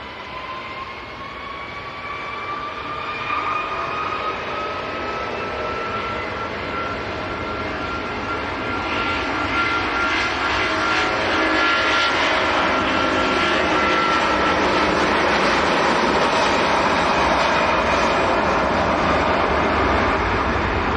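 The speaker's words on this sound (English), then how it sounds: "Turkish just about to roll." A Turkish Airlines jet at Manchester Airport spools up and rolls for takeoff, a broad steady engine roar with rising whine that builds gradually and holds loud and close throughout.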